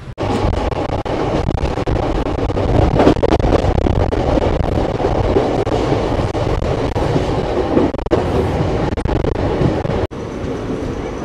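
Passenger express train 13512 from Asansol to Tatanagar runs on the tracks near Adityapur, a loud steady rumble with rhythmic clickety-clack and wind buffeting, briefly cutting out near the end.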